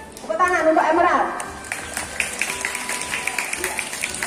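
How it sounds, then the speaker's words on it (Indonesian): A classroom of students claps for a classmate named Emerald, a brief burst of close, lively clapping following a teacher's voice, then scattered, thinning claps trailing off. "Tepuk tangan untuk Emerald."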